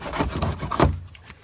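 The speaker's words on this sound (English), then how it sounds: "take our hacksaw, and we just cut it right off" A hacksaw cuts through EZ Flow drain pipe in a few quick, close, raspy back-and-forth strokes that end abruptly after about a second.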